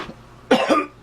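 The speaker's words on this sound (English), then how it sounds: "excuse me for the cough" A single person coughs twice in quick succession, close and fairly loud, a short harsh burst followed by a second, slightly longer one.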